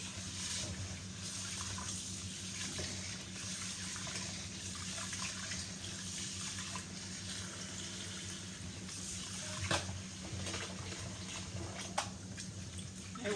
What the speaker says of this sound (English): I'm going to wash my rice.